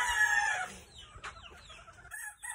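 Chickens cluck and roosters crow at a chicken farm, a close crowing call rising over steady background clucking from the flock.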